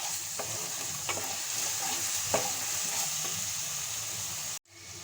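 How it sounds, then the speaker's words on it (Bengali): Turmeric and Kashmiri red chili powder fry in a pan for shahi paneer, a steady close sizzle with a few stirring scrapes, cut off abruptly near the end. "উপাদানগুলো আমি ভেজে নেব।"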